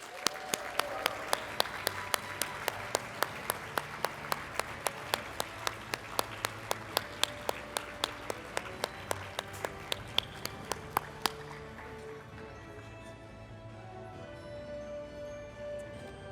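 Applause from the audience at a university achievement celebration, honouring an award winner for excellence in academic or clinical teaching: a steady wash of clapping with sharp, evenly spaced claps standing out in front, fading after about eleven seconds into a quieter room.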